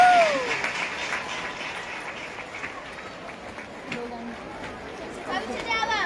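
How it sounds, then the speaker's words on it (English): An audience at a ceremony applauds a distinguished guest with moderate, scattered clapping mixed with chatter and voices, fairly steady with a brief swell near the end. "we have a big round of applause, ladies and gentlemen."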